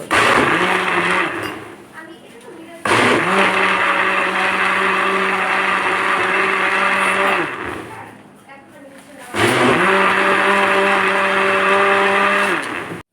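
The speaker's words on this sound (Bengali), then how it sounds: "পানি দিয়ে ব্লেন্ডারের জগটা মুখ আটকে নিব ব্লেন্ড" Electric blender whirring as it blends raw green mango juice with water, sugar and salt, loud steady motor bursts that stop and restart in three runs with brief quieter pauses between them.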